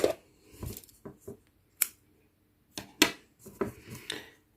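Scissors cut white yarn during amigurumi crochet work, making a few sharp metallic snips and clicks in quick, uneven succession, close and clear in a quiet room with no talking.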